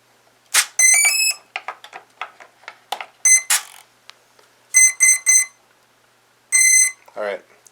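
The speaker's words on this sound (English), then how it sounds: "let's fire it up and listen to those 4 ESCs singing" Four electronic speed controllers in a Guillows B-24 radio-controlled model plane beep their startup tones, bursts of high chirps and melodic beep sequences in quick groups, close and clear, with short pauses between.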